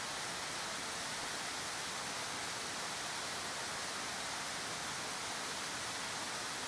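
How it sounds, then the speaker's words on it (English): Colorado mountain creek rapids jammed with logs and a series of waterfalls make a dense, constant roar of rushing water, loud and unbroken throughout with no voices. "First there's a rapids jammed with logs, then a series of waterfalls."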